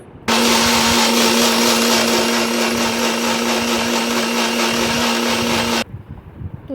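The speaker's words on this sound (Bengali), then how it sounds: "তো মিক্সিং জারে দিয়ে দিয়েছি এবার মিক্সিটা আমি করে নেব" A mixer grinder blends watermelon into juice with a loud, steady high whine that starts abruptly, holds evenly for about five and a half seconds, then cuts off sharply.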